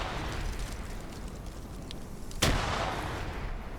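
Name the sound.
frag grenades exploding in a video game (OFCRA PvP)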